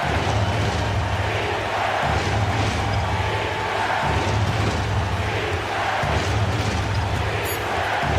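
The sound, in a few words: crowd cheering in a basketball video game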